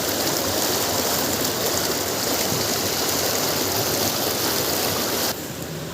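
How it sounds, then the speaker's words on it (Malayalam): A small stream runs over its banks where a channel gate is blocked, giving a loud, steady rush of flowing water that continues without a break and drops slightly near the end. "ഈ തോട് കവിഞ്ഞ് ഈ ചീപ്പ് ബ്ലോക്കായത് കാരണം"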